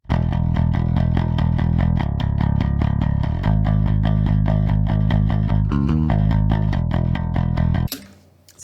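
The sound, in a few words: dry DI bass guitar signal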